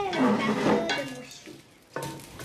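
Food stirred in a pot with a utensil, scraping and clinking against the metal in a continuous rhythm, close and fairly loud, fading briefly before another sharp scrape and clatter.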